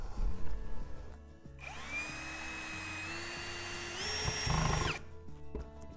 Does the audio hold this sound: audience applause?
no